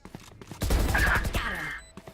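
Gunfire in a Valorant esports match, a dense burst of shots swelling into a sustained fusillade for over a second amid crowd and game noise, with a caster talking over it.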